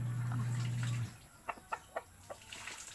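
A few short clucks from chickens sound close by, spaced out over a couple of seconds, following a low steady hum that cuts off.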